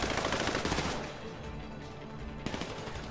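Rapid gunshots from GTA V firefights during a heist, dense automatic fire up front, easing off, then another volley near the end, loud and continuous.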